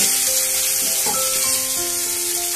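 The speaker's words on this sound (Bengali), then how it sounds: "এবার আমি যে বেটে রাখা মশলাটা আছে ওটা আমি মিশিয়ে দিচ্ছি।" Ground spice paste of ginger, cumin, coriander and dried chili frying with potato, onion and garlic, a loud, continuous hissing sizzle close up, steady throughout with a faint hum beneath and no talking.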